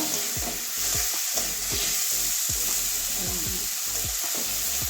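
Prawns sautéing in a pan, a steady close sizzle broken by rhythmic scraping stir strokes from a spatula against the pan, no voices.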